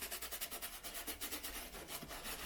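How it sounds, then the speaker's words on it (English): Dirty white Nike Air Force One sneakers scrubbed with a brush, a steady rhythmic bristly rasping of quick back-and-forth strokes, close and fairly quiet with no talking. "You want to make sure you scrub that front side all around."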